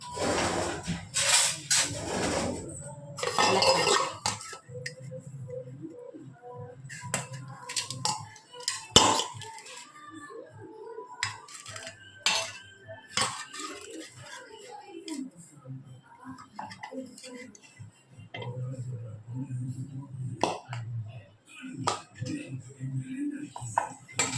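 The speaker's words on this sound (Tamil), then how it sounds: "ஃபர்ஸ்ட் நான் அதுக்கு ஒரே ஒரு பொட்டேட்டோ நல்லா பாயில் பண்ணி வச்சுருக்கேன். இப்போ ஸ்மாஷ் பண்ணிடலாம்." A boiled potato being mashed in a bowl for potato cheese balls, with irregular clanks and scrapes of the utensil against the dish, near and loud, while a person talks in between.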